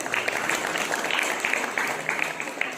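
Energetic applause from a school audience at a motivational speech, a dense, continuous wash of clapping that stays loud and even across the short stretch.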